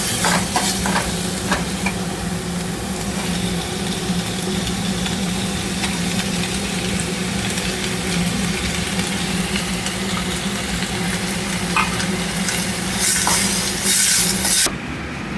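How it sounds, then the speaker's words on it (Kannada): Tomatoes sizzle steadily in a hot pan, with occasional stirring scrapes over a constant low hum. "ಹಾಗೆಯೇ ಟೊಮೆಟೊನು ಕೂಡ ಹಾಕಿ ಫ್ರೈ ಮಾಡ್ಕೊತೀವಿ"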